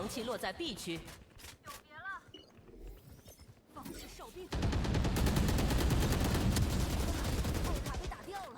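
Rapid, sustained automatic gunfire from the mobile FPS shooter Valorant Mobile starts abruptly midway and continues as a dense stream of shots, after a stretch of talking over quieter in-game sounds.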